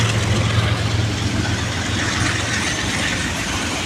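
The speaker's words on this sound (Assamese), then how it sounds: "ট্ৰেইন গৈ আছে গাইছ দেখিছে" A long train, apparently carrying tank wagons, rolls past on the railway line, making a continuous loud rumbling roar close by with a low steady drone underneath and no speech.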